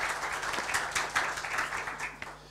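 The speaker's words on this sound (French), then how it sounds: "On peut applaudir Aymar pour lui donner du courage." Applause from a small audience at a French tech talk, welcoming a marketing data science manager as he steps up to speak; a steady, moderate patter of hands with a low hum underneath.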